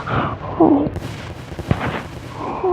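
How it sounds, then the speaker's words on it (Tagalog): Explosions in the Roblox game Ragdoll Engine, a few dull booming bursts of game audio with a brief voice-like sound at the start. "Sumabog siya, oh."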